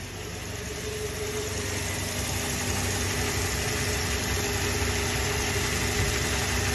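A Toyota Hilux 3RZ-FE 2.7-liter gas engine idles too low and shakes heavily, giving a steady, close, rumbling drone with a rough vibrating undertone that holds throughout.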